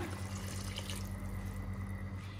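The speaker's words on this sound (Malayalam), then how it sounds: "ഒരു കപ്പ് വെള്ളം കൂടെ നമ്മൾ ഒഴിക്കുകയാണ്" A cup of water is poured into a simmering fish head curry made with trevally, a short, soft splashing trickle close by over a low steady hum.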